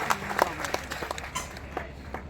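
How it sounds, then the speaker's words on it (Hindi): Audience clapping for guests seated on stage at a public function, a short scattered round of applause with uneven claps that fades toward the end. "तमाम मंचासीन मेहमानों का जोरदार ताली बजाकर एक बार अभिनंदन करने की कृपा करें"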